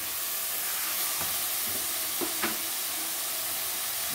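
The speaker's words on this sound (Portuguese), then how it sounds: "Eu vou refogar bem essa carne" Ground beef sautéing in a pan with calabrian chili flakes, black pepper and salt, a steady close sizzle and hiss with a few soft scrapes of stirring.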